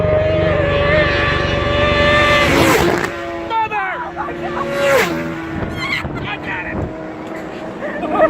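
Super-fast motorcycles at the Isle of Man TT road race roar past close by in two loud, high-pitched passes, each with a sharp falling pitch sweep. Wind buffets the microphone, and a voice reacts.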